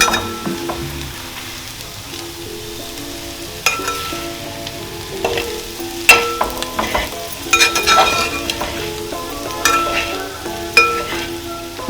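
Pieces of beef fry in a pan with a steady low sizzle while a spatula scrapes and clatters through them in irregular bursts, close and fairly loud, no talking.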